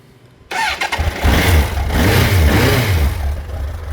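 A 1987 Suzuki GSX-R1100J motorcycle, its carburettors freshly cleaned, cranks and fires up at close range, then settles into a loud, steady rumbling idle with slight revving fluctuations and no talking.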